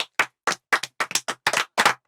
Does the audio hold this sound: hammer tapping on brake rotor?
no